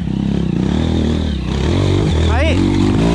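Trail motorcycle climbing uphill on a foggy dirt trail, engine droning loud and close with a rising rev near the end, while someone speaks over it.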